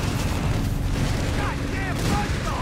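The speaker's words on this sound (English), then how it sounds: "First AT gunshot comes in." Anti-tank gun fire in the Company of Heroes 3 strategy game, a heavy boom amid continuous battle noise, with mechanical whines and chirping effects layered on top.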